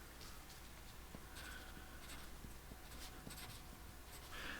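Pen scratching across paper while a maths equation is written out, a faint steady scribble with short strokes and pauses, close and quiet, no talking.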